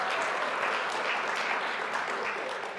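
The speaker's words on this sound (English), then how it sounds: "So round of applause." Audience applause at a charity fundraiser after a total raised is announced, a dense, steady clapping that fills the whole stretch at even loudness without a break.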